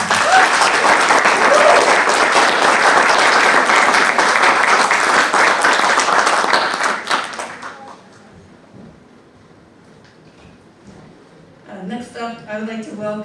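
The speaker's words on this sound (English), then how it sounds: "Please, let's give a round of applause for all of these people who supported our graduates." Loud sustained applause from a large audience at a graduation ceremony fills the first seven seconds, then fades to a quiet room before a voice begins speaking.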